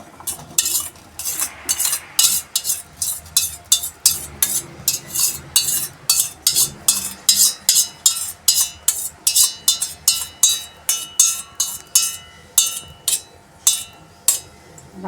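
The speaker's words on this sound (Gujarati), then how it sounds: "આપણા પૌવાને બરોબર અંદર હલાવી દઈશું।" A spoon stirs flattened rice (poha) through hot milk in a pot, making a steady run of close, rhythmic scraping clinks against the metal, regular strokes continuing with no voices.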